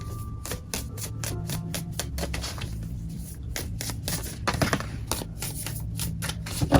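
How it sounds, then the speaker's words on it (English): Tarot cards shuffled by hand in a continuous run of crisp, rapid riffling flutters and soft slaps, fairly close and steady, with no talking. "in my pre-shuffle"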